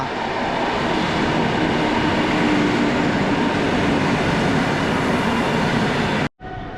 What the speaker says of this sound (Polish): wjeżdża skład Polregio do stacji Warszawa Główna.